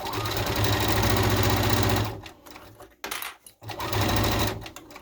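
A sewing machine runs in a fast steady hum, pauses briefly with a few soft clicks, then stitches rapidly again.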